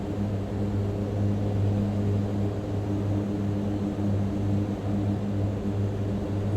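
Steady, even drone of a Mitsubishi MU-2 turboprop in flight in Microsoft Flight Simulator, holding a constant engine hum with strong low tones throughout, with no talking.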